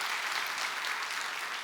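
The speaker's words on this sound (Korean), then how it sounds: "자, 우리 한번 박수로 격려하겠습니다." A church worship congregation claps steadily for the worship band, a dense, even wash of applause throughout, moderately distant, with no clear voices.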